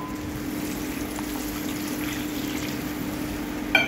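Water trickles into a pan of spiced masala for a ridge gourd and fish curry, a steady close pouring and sizzling wash with a faint low hum beneath and a small clink near the end.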